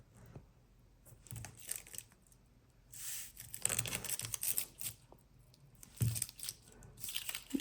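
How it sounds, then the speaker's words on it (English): Double-sided tape is torn and pressed onto paper while a planner is decorated, giving soft crinkles and ripping bursts at irregular intervals with quiet pauses between them. "let's go ahead and just use this double-sided tape again to put on the corner here."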